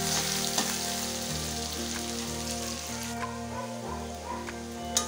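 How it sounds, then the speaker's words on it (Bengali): Onions browning in a pan for a cabbage roll dish fry with a steady, close sizzle that runs unbroken from start to finish, with no talking over it. "পেঁয়াজগুলো একটু ব্রাউন করে ভেজে নেব।"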